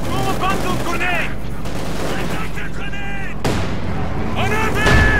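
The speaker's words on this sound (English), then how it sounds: "Throw a bundle grenade!" Bundle grenade blast and gunfire in a Company of Heroes 2 battle, with a sharp loud burst partway through amid continuous crackling combat noise and shouted unit voice lines throughout.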